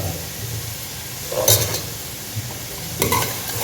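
Fish masala with pepper being stirred and fried in a pan, a steady sizzle with a few louder scraping stirs near the start and end, heard alone without talk.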